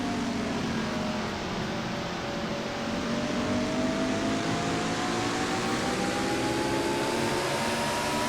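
A racing truck's engine drones steadily on board during an Advocare Truck Series race, loud and continuous, its pitch slowly rising as it accelerates, with heavy wind and road roar and no voices.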